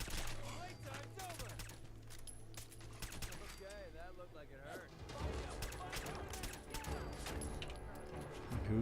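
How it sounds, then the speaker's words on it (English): Bursts of gunfire in the Fallout 4 video game, in survival mode near a failed bunker, crackling on and off throughout under ongoing game noise and speech. "Who's shooting now?"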